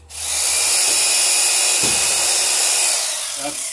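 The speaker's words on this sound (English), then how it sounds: "where I want the drill to go through." Power drill boring through a wooden dory plank for rivet holes, a loud close high whine that starts abruptly, holds steady for about three seconds, then winds down.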